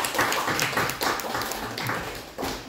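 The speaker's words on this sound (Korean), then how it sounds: "우리 힘찬 박수를 좀 해주십시다" Church congregation clapping to welcome a young brother, a dense, steady patter of many hands close by that carries on for a few seconds.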